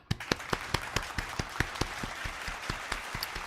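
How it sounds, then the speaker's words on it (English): A few people clap for a giveaway winner on an afternoon show, distinct separate claps in a quick, uneven rhythm, close and fairly quiet. "Let's give her a round of applause for winning today's DoorDash giveaway"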